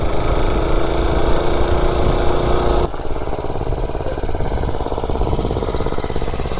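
Gas mini bike engine running on a 60% diesel fuel mix, a steady buzzing drone close by that drops in pitch and loudness partway through as the throttle eases, then keeps running evenly.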